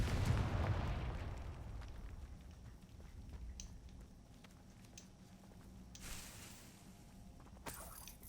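A Confringo blasting spell explodes in Hogwarts Legacy: a single loud, close burst opens and rumbles away over a couple of seconds, followed by quieter game ambience and a few faint later thuds.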